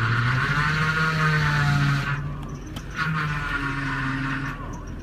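Holden Commodore engine running at idle after starting, a steady low drone with a brief higher whine from the power steering as the wheel is turned, fading slightly later on.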